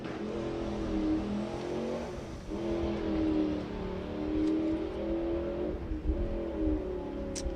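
A 1937 Ford Coupe makes a drag strip run with a slipping clutch. The engine drones loudly and steadily, its pitch rising in repeated revving surges and briefly dipping between them.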